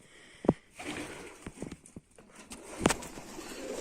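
A few soft pigeon coos and wing flutters sound close by, with faint scuffing and shuffling in between.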